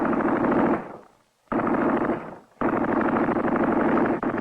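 A tank-mounted machine gun fires three long, loud, continuous bursts of rapid shots, close up, with short gaps between the bursts.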